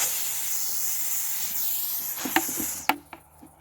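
Garden sprayer hissing steadily as it applies a liquid household-soap solution to tomato plants, a broad continuous spray-like hiss that sputters into a few short bursts and stops near the end.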